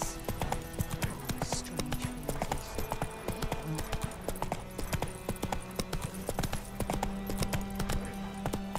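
Roach, Geralt's horse in The Witcher 3: Wild Hunt, clip-clops along at a steady walking pace, the hoofbeats clear and near over game ambience and light background sound, with no talking.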